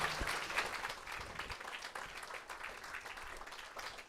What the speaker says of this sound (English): can we have a big round of applause for all our three mediums tonight?